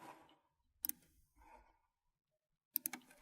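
Mouse clicks on a software button, two crisp clicks, the second a quick double, sounding close and clear between stretches of near silence.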